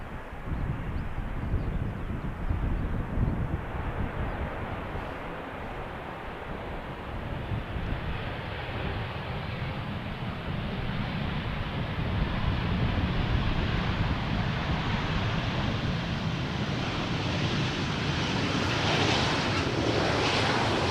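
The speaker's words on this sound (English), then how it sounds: "Anadolu jet operated by Turkish Airlines. Coming in from Istanbul, it's a 737-800 that is 11 years old, now touching down." An 11-year-old Anadolujet Boeing 737-800 touches down on runway 18R at Amsterdam Schiphol, its engines a broad, steady roar that swells toward the end, with wind buffeting the microphone throughout.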